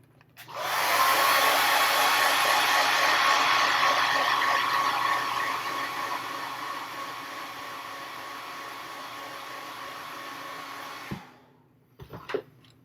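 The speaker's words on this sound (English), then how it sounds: "Hit this with a hair dryer." A hair dryer blows steadily at close range, loud at first then easing slightly, before switching off with a couple of clicks and knocks.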